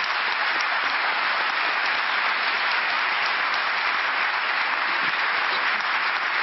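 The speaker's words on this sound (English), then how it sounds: "Can we give our panelists one more round of applause?" Steady audience applause for panelists at the close of a college athletics panel discussion, dense, even clapping filling the room throughout with no talk over it.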